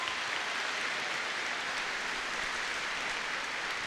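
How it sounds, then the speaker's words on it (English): A large crowd at an opening ceremony gives a round of applause, a steady, even wash of many hands clapping at once, heard from a distance at moderate level and sustained without a break. "So give yourselves a huge round of applause,"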